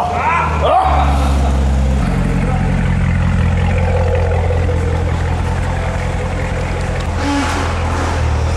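A Corvette C7 Stingray V8 rumbles into a deep, steady idle, its low throb holding constant for several seconds while people talk nearby.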